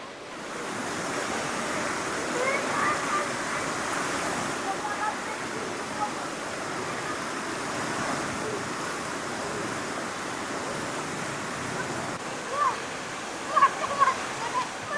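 Steady rushing water from a small river, broadband and continuous throughout, with a few brief louder splashes near the end.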